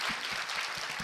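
A studio audience at a Korean talk show claps briefly in a quick burst of fairly loud applause, heard alone without talk.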